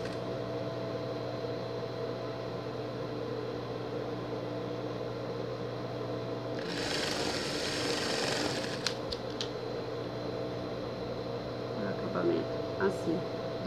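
A sewing machine stitches a sleeve onto a pet jumpsuit beside the shoulder seam, a steady mechanical hum with a brief louder burst of stitching in the middle, under faint room noise.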